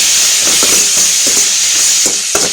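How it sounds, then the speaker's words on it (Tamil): Chili powder and garam masala sauté in a pan, giving a steady, loud sizzling hiss with soft, irregular knocks from stirring. "கொஞ்சம் தேவையான அளவு மிளகாத்தூள் கரம் மசாலா தூள் கொஞ்சமாக போட்டு நல்லா வதக்கி விடுங்க"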